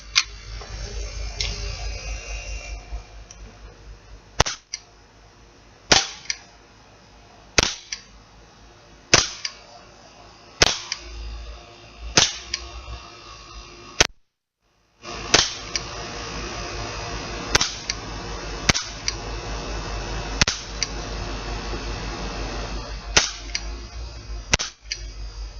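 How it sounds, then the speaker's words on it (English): Beretta 92 style CO2 airgun pistol fired in a string of sharp, crisp single shots spaced a second or two apart, loud and close, with a short pause midway before firing resumes. "We're going to see how many mags we can fire before it runs out of CO2."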